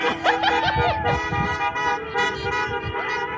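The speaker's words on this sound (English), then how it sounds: "So they kind of just honked the whole way through the neighborhood." Car horns toot repeatedly as a line of cars parades through a neighborhood, short overlapping honks of different pitches, fairly close and loud, with a voice briefly mixed in.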